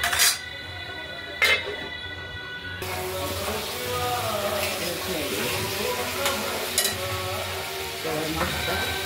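Katla fish pieces dropped into a pan of frying spice paste, giving a steady sizzle with a few clinks of utensils and brief speech over the top.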